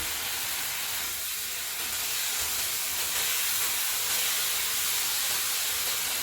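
Bananas cook in hot ghee over a medium flame, producing a steady, dense hiss of frying that holds at an even level throughout with no talking.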